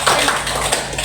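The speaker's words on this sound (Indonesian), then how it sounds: "tepuk tangan dulu untuk Pak" Brief burst of applause for a teacher named Pak Rizky during a school dissemination session, a steady patter of hand claps filling the room.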